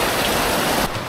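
Heavy rain pouring during a flood, a loud dense hiss of rainfall close by that drops off abruptly near the end.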